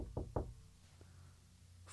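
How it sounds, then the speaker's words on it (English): Two quick knocks on a wooden door, close and fairly loud, followed by a faint thud and a soft hiss of room tone. "there came a knock on the door"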